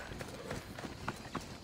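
A horse in the video game Assassin's Creed Odyssey makes faint, rhythmic clip-clop hoofbeats, a few soft thuds repeating under a low background.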